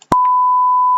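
A 1000 Hz pure test tone from an acoustics class sounds as a clean, steady beep right after a brief soft click, holding evenly for the rest of the second.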